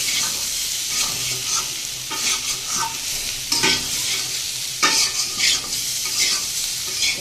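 Cumin seeds tempering in a hot pan give a continuous loud sizzle, with bursts of crackle and spatter rising and falling as the pan is stirred.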